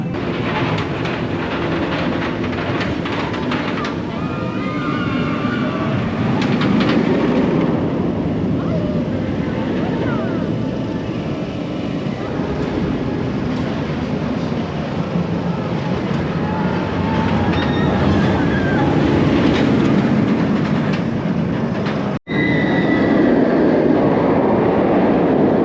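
Shambhala roller coaster at PortAventura running on its track, a loud sustained rumble and roar of the train in motion that lasts the whole stretch with a brief cutoff near the end, and voices heard at times.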